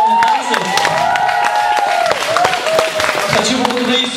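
Applause and cheering from an audience at a summer camp awards ceremony, a steady crackle of clapping that runs throughout under tonal sounds, with voices mixed in.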